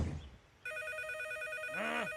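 A telephone rings with a steady electronic trill that starts abruptly after a short noisy moment and continues without pause, loud and close.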